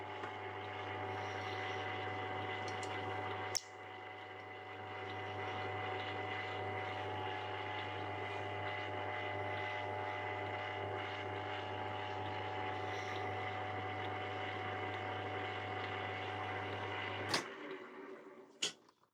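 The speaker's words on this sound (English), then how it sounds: "And once we're happy, we can turn the lathe on," Metal lathe running under power feed while cutting a thread on a muzzle brake, a steady low motor hum and drone with a sharp click near the start and a clunk as it stops near the end.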